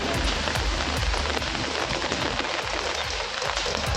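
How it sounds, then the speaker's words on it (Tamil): Rain pours in Karaikudi in Tamil Nadu's Sivaganga district. A dense, loud, continuous roar of water with drops spattering on surfaces. "சிவகங்கை மாவட்டம் காரைக்குடி சுற்றுவட்டாரத்தில் சுமார் 1 மணி நேரம் மழை பொழிந்தது"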